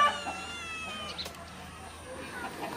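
A cat meows close by, a couple of short tonal calls over a steady indoor background hum, with faint voices in the room.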